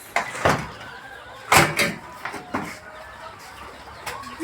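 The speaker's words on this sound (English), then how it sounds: "These are our broilers. Hey, they are here now. This is 6 weeks broilers." Six-week-old broiler chickens cluck in a poultry house, scattered short calls near at hand over a quiet background.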